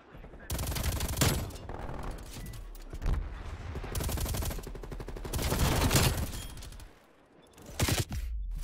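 Rapid bursts of Stoner 63 light machine gun fire in Call of Duty: Black Ops Cold War rattle loud and close in long, dense volleys, broken by brief pauses and a short quiet gap near the end.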